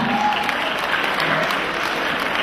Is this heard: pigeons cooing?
no